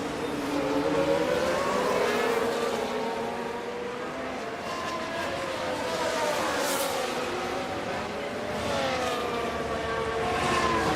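Formula 1 car engines in the racing game F1 Manager 2024 at Silverstone, several high-pitched whines rising and falling as cars pass, overlapping in a steady moderate-volume drone.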